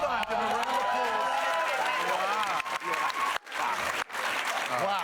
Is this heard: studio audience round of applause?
yes